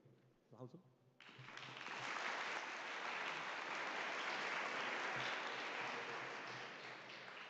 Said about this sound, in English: And Italy, please give a big cheer before we lose everything.